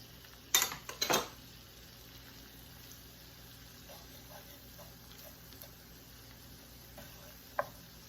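Butter stirred in a pan for shepherd's pie: a couple of sharp utensil clinks against the pan early on, then quiet faint scraping and one more clink near the end.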